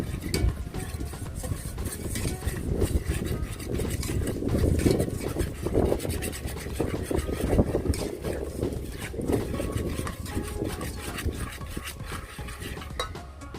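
Flour being stirred into pancake batter with lychee yogurt in a bowl: a close, continuous scraping and sloshing with light clinks of utensil against the bowl, steady and fairly loud throughout.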